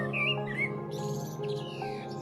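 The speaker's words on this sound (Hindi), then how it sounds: "सारे पंछी जमा होने लगते हैं।" Bright bird chirps and tweets flit over a steady musical background, short rising calls scattered through a brief passage.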